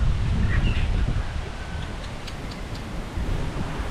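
Strong wind buffets the microphone in steady, heavy gusts, a low roaring rush with a few faint chirps high above it.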